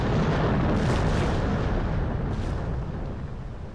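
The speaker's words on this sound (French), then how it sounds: "L'explosion a été si forte et si puissante que l'on rapporte que la bataille s'est arrêtée net" The French flagship L'Orient explodes during the Egyptian campaign, heard as a loud, dense, rumbling blast that fills the whole stretch and slowly fades toward the end, with no voices.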